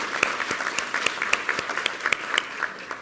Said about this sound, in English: Give him applause for that.